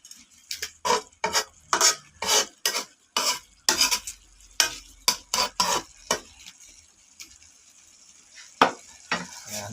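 Butter garlic prawns stirred in a pan on a small outdoor terrace in Houston, Texas, with repeated utensil scrapes and stirring strokes over a steady sizzle, close and fairly loud throughout.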